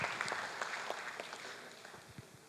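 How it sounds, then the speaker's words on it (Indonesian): Audience at a talk by a state electricity company director applauding, a scattered crowd of claps fading gradually over a couple of seconds. "Aplaus lagi untuk kita semuanya."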